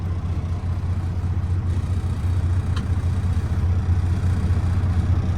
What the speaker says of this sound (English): Now I'm going to go ahead and pull forward and perform that service brake test.